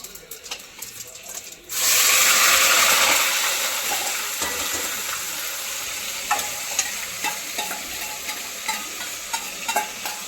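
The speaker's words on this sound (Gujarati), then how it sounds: "મોટા બેન શાક વઘારવા મળ્યા છે મટર પનીરનું" Tempering for matar paneer hits a hot pan with a sudden loud sizzle that then settles into steady frying, with sharp clicks of stirring against the pan.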